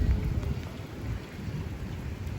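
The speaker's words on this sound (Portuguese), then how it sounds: "Ouviram o trovão?" Deep rumble of thunder during steady rain in Curitiba, Brazil, a low rolling roar that swells at the start and stays under a constant hiss of rainfall.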